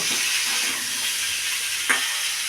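Potatoes and tomatoes fry in a pan with a loud, steady hissing sizzle, and a couple of brief stirring scrapes come near the end.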